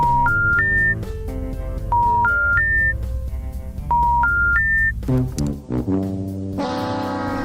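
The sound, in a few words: telephone dialing a call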